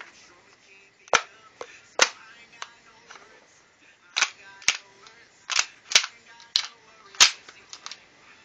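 Custom 1911 airsoft pistol firing about a dozen sharp, close cracks at an uneven pace, some in quick pairs, with quiet handling noise between shots and no talking.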